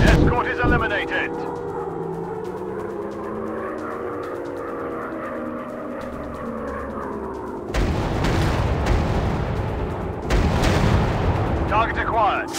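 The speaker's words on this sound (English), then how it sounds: "Target acquired. Firing rockets." Rockets and gunfire from an aircraft strike on a flak gun in a flying combat video game, with heavy booms and rumbling engine drone; bursts of dense blasts swell loudly near the end under game voice callouts.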